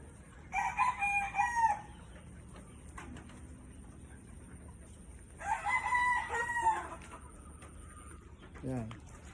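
Free-range native chickens on a backyard farm crow in two loud bursts, with clucking and faint murmurs in between, and a person speaking briefly nearby.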